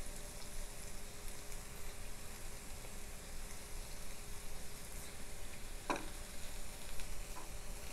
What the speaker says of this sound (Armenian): Խառնում ենք նորից։